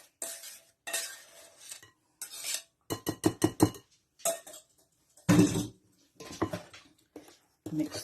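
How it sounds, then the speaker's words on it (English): Bananas are stirred into a buttery egg mixture in a bowl for banana bread, giving intermittent scraping and clinking utensil strokes with short pauses between them, close and moderately loud. "Mix the bananas in."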